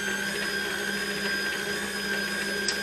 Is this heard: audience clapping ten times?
no